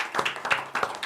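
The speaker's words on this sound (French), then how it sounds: "On va applaudir pour l'amour" Audience applause during a special French TV broadcast, a short burst of clapping with a few distinct pulses, fairly close and moderately loud, with no talk over it.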